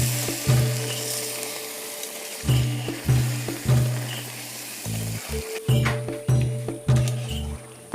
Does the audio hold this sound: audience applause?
no